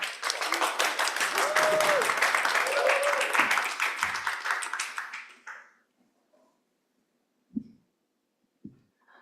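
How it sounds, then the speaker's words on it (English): An audience applauds panelists at an arts-and-comedy panel discussion: dense, steady clapping fills the room for about five seconds, then fades out, leaving a couple of faint isolated taps and thumps. "So give a round of applause for our panelists"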